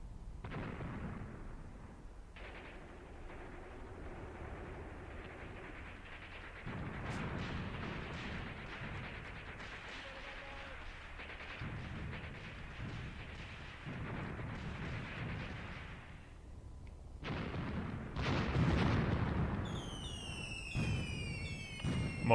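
Artillery shells fall on suspected Russian positions in the war game Graviteam Tactics, a sustained rumble of distant booms and blasts with a louder burst cluster near the end, alone without talk.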